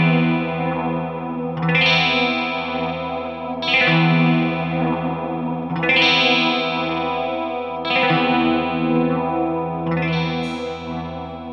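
Trebly electric guitar chords cut through with a chorus-like processed tone, five strummed chords spaced about two seconds apart, each left to ring and decay.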